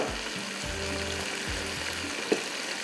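Whole spices such as star anise, nutmeg and mace roast in a pan, making a soft, steady sizzle with low bubbling pulses and one brief sharp tick near the end; no talking.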